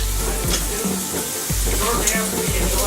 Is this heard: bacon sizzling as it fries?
yes